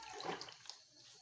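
Water is poured from a glass into a cooking pot of washed rice, about three glassfuls for plain rice, giving a short, steady splashing pour that is fairly close and even.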